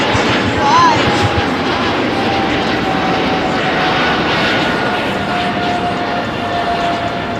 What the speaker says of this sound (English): just departing is our American 777, ladies and gentlemen. Just departing here on the 25.